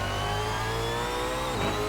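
A Brabham BT62 hypercar engine in the video game Assetto Corsa at Laguna Seca revs loudly and continuously, its pitch climbing and then shifting as it changes gear, with no voices.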